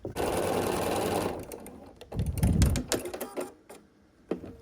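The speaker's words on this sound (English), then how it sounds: "right now we're gonna sew this on to the front of the quilt" A sewing machine stitches binding onto the front of a peppermint quilt tree skirt, running in a steady close whir for over a second before breaking into shorter bursts with pauses and light handling noises.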